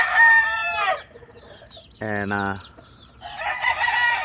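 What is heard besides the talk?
rooster crowing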